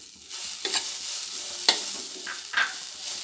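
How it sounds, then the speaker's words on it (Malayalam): Banana pieces frying in ghee with grated coconut for a sweet, a steady sizzle broken by repeated spatula stirs scraping the pan, close and clear. "അപ്പോൾ ഇതിന് നമുക്ക് ചെറുതായിട്ടൊന്ന് വറുത്തെടുക്കാം."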